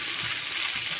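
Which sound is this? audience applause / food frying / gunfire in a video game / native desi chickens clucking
food frying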